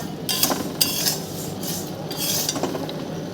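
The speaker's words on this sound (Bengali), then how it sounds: "আমার চিড়ে ভাজা" Flattened rice (chira) being stirred while it fries dry in a pan at home, giving a few sharp scraping clinks of a utensil against the metal over a steady soft crackle, close and alone.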